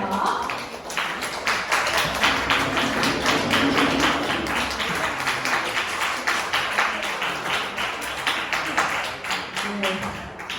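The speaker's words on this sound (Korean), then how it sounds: "큰 박수로 맞아주세요" Audience applause welcoming a lecturer to the stage at an immune-diet academy class, steady clapping from a crowd sustained for the full stretch at fairly even loudness.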